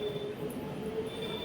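Faint train running on rails, a steady low rumble with a thin high squeal of wheels, continuous and at a distance, no talk.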